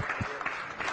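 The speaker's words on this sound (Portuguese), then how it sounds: "As palmas para o Bispo Alceu" A short burst of clapping from a crowd, moderately loud and continuous.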